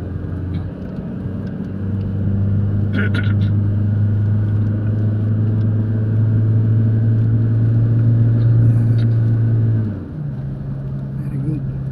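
A car engine idles and runs steadily through a driving lesson, a low sustained hum that drops in pitch near the end as the gear or speed changes, with an instructor talking over it.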